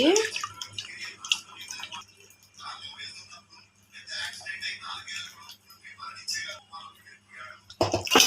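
Tamarind water is poured in uneven splashing bursts into a pot, with dribbling drips between pours and a final splash at the end.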